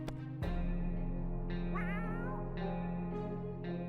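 A cat meows a few times in the video game 60 Seconds! Reatomized, with clear, wavering cries over a steady layer of game music.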